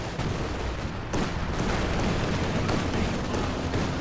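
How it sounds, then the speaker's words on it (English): Machine-gun fire crackles in Company of Heroes 2 during an urban Axis-versus-Allies battle with three machine guns firing, giving continuous rattling bursts mixed with heavy battle booms and no voices. "with the machine guns, we have 3 machine guns right here"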